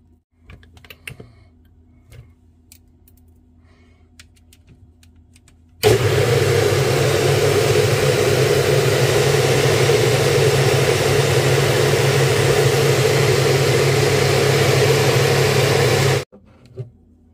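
A blender runs on a mix of orange, banana and ice cream for about ten seconds, loud and steady with a strong whirring drone, after a few quiet clicks and handling sounds, then cuts off abruptly.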